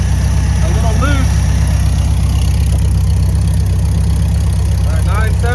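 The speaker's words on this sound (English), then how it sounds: "The engine's warming up." VW Beetle engine idling steadily while it warms up, a continuous low rumble with regular firing pulses close by, with people talking over it.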